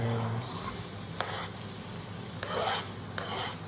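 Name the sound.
frying chilies, tomatoes and onions in a pan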